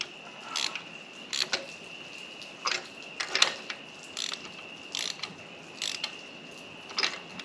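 Ratchet snugging spark plugs on a 2011 Hyundai Elantra, a close series of crisp clicking bursts repeating at a steady rhythm, about ten short ratcheting strokes with quiet gaps between.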